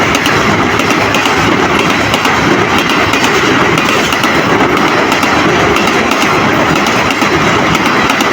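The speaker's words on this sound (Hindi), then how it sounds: "शाह हुसैन एक्सप्रेस अपने पहले सफ़र पर जाने पहुंच रही है" The Shah Hussain Express passenger train rolls in with a loud, continuous rumble and steady rattling of wheels and carriages, close by and unbroken throughout.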